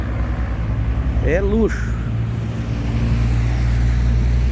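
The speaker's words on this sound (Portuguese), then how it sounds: "Ó, caminhão boiadeira. Mercedão aqui é luxo" A Mercedes cattle truck passing on a forest road in Mato Grosso, heard as a low, steady engine rumble throughout while someone speaks briefly nearby.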